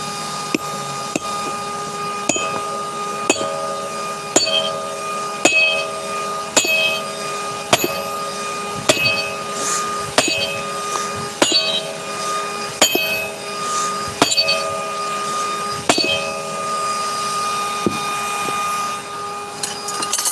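A ball peen axe is hammer-forged on an anvil, with sharp ringing metallic strikes landing at a steady rhythm about once a second over a constant background hum, close and clear, with no talking.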